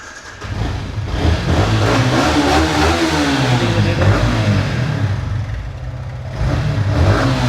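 A second-hand motorcycle for sale revved up close by, the engine roaring loudly and rising and falling in pitch over several seconds with a rough mechanical edge.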